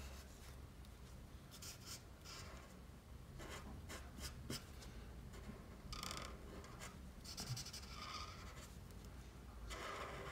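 Pencil colouring over a yellow area in a drawing tutorial for a Fortnite emoji, giving a steady, close scratchy rubbing of lead on paper with short strokes repeating throughout, no talking.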